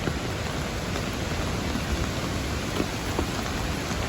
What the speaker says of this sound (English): It's raining off and on